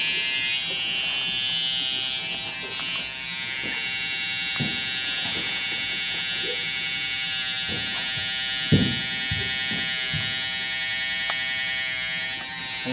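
An electric hair clipper buzzes steadily and close during an edge-up lineup at a haircut, a continuous whine with occasional soft knocks and brief shifts as the blade moves along the hairline.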